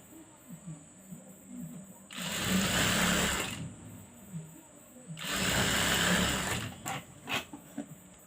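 A sewing machine joining the back pleats of a dress runs in two loud bursts of a few seconds each, with quiet handling between them and a soft voice nearby.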